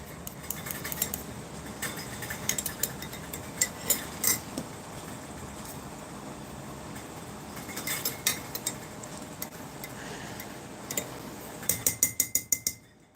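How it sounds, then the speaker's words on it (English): A spoon stirs sweetened condensed milk into tea in a cup, giving scattered light metallic clinks against the rim over a quiet background, with a quick run of rapid taps near the end. "I'm stirring it, just let the tea bag float up, stirring it to dissolve"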